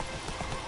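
Horse hooves clip-clop in The Witcher 3, a short quick run of hoofbeats heard alone at low volume.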